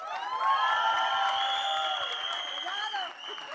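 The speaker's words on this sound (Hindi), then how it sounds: "तालियां होनी चाहिए भाई." Audience applause and cheering at a film trailer launch event, a crowd noise with whoops and shouts over clapping, loud and continuous for a few seconds, with tonal voices and a rhythmic low tapping beneath.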